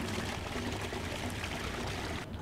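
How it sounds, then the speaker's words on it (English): A toilet flushing in the PC video game Max Payne, a continuous rushing pour of water that runs steadily for a couple of seconds before cutting off abruptly near the end. "Flush the toilet."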